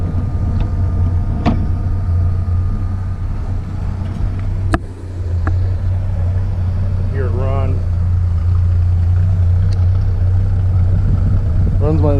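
A 1950 Studebaker Champion Starlight Coupe engine idling steadily with a low, smooth hum, close by. A faint radio and a few brief clicks sit over it.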